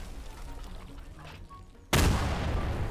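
Cannon in Garry's Mod firing with a loud, sudden broadband blast near the end, followed by a sustained roaring rumble after quieter game ambience.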